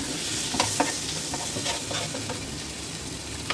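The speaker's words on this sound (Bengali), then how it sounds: "দিয়ে দেবো পরিমাণ মতো নুন দিয়ে একটু ভালোভাবে নেড়ে চেড়ে" Chopped tomatoes with salt are stirred in a sizzling frying pan, a spatula scraping and clacking several times over a steady close frying hiss.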